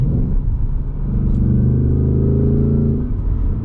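A 2026 Ford Mustang GT accelerates hard with a loud, steady engine roar and deep low rumble that holds strong for several seconds before easing slightly near the end, with no talking.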